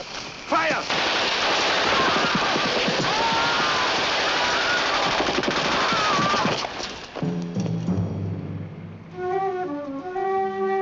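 Loud, sustained machine gun fire rattles continuously for about seven seconds in a 1960s TV action scene, then gives way to music.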